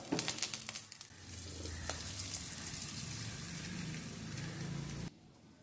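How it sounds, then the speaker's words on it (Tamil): Urad dal, asafoetida and curry leaves tempering poured into beetroot chutney, giving a steady close sizzle and crackle that runs for about five seconds, then cuts off abruptly. "இந்த தாளிப்பை இப்போ நம்ம இந்த சட்னியில் சேர்த்துக்கலாம்"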